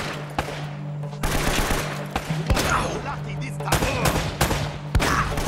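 Rapid gunfire from an Uncharted game, in repeated bursts of automatic shots with sharp cracks over a constant low tone, loud and close.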